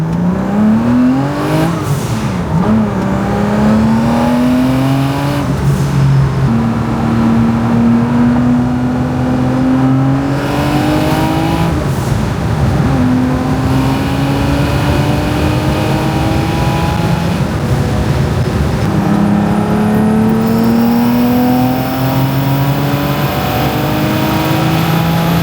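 A classic BMW driving on a French motorway, its engine droning steadily with rising and falling pitch through gear changes over about 25 seconds, loud and close with continuous road and wind noise and no talk.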